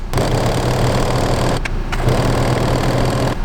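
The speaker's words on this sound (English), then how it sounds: "we're going to overlock this edge" An overlocker serging the edge of a black bedsheet pocket piece runs with a steady, loud mechanical hum that stays close and continuous throughout, with only a brief dip in the middle.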